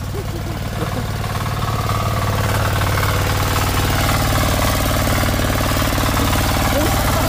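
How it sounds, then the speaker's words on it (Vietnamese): A tractor engine runs loud and steady nearby, a continuous chugging, knocking rumble with strong mechanical vibration; a few faint voices are buried under it. "máy cày này khỏe hơn cả ô tô của em"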